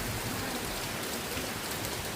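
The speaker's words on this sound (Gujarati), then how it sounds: "એટલી ઘડીમાં તો વરસાદ ધીમો પડી ગયો" Steady rain falls in a continuous, even hiss during a monsoon day, with no voices over it.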